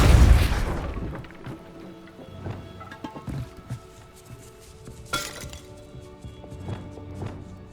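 A Depulso force spell fires in Hogwarts Legacy with a loud booming burst at the start, followed by scattered clinks, knocks and a second sharp impact amid faint ambient game sounds.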